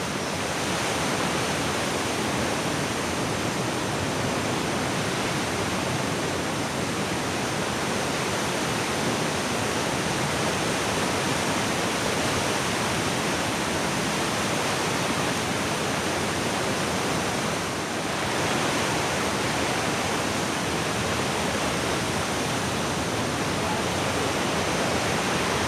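The flooded Lakkidi river rushing, a loud unbroken roar of turbulent water that stays steady and close throughout.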